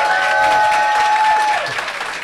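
A live audience at a cabaret-style circus show cheers and applauds loudly and steadily, with a sustained whoop carrying over dense clapping before the noise starts to thin out.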